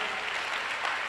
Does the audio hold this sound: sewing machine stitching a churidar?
no